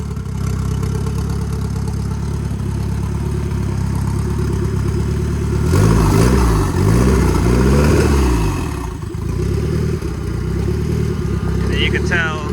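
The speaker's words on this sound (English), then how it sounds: "You can tell when I give it gas." A 1993 Nissan 240SX with a stock S13 SR20DET engine run on an AEM Series 2 standalone ECU idles loudly close by, then revs up and falls back once, and a voice speaks briefly over it.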